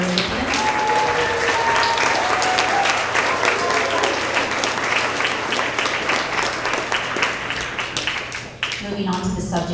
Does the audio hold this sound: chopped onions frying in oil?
no